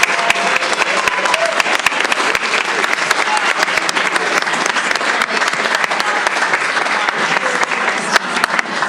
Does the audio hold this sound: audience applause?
yes